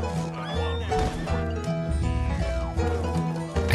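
A horse in Red Dead Redemption 2 whinnies loudly and close, a long, wavering neigh with hoof clops and game sounds alongside it.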